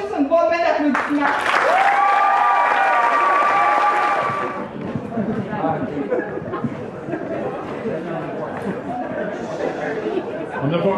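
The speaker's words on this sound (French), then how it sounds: "j'aimerais juste une bonne main d'applaudissement" Audience applause at a French-speaking gathering with music, a loud burst of clapping with music or voices over it for about four seconds, then fading into steady crowd chatter and talk.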